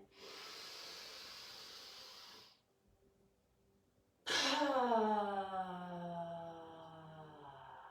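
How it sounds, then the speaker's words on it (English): During a yoga breathing exercise, a long, deep breath in streams steadily for a few seconds and then stops. After a short silence comes a loud, voiced, sighing exhale that slowly fades. "Let's do one more, ready? Breathing in."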